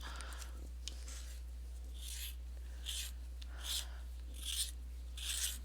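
A black colored pencil is sharpened, giving faint, dry scraping strokes that repeat in a steady rhythm, close by and quiet, with no talking.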